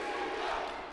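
A wrestling arena crowd roars in a dense, sustained wall of cheering and yelling that holds steady for a moment with no clear individual voices.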